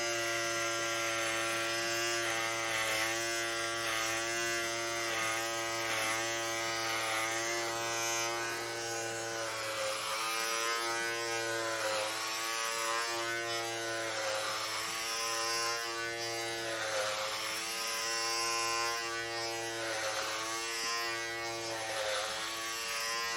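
A Philips 11-in-1 Series 5000 cordless grooming trimmer buzzes steadily and close while cutting hair short without a comb. The motor note wavers slightly as it passes over the head, with no talking.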